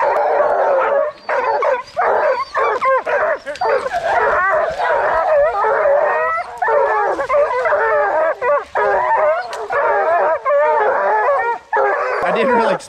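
Bear-hunting hounds bark, yip and howl almost without pause, a dense overlapping chorus of several dogs close by and loud, with whimpers mixed in.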